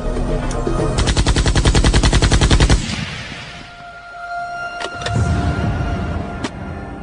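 A rapid burst of sharp, evenly spaced cracks fires for about two seconds, then gives way to quieter ambient noise with a few isolated clicks.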